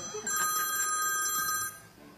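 A telephone rings with a steady electronic tone lasting about a second and a half, loud and close, with faint background noise around it.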